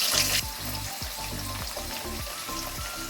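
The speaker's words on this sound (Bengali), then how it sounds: "দিয়ে আমি পিস করা আলুটা ভেজে নেব।" Diced potato pieces frying in hot oil tempered with whole cumin seeds, a steady close sizzle with crackling pops throughout, no voices.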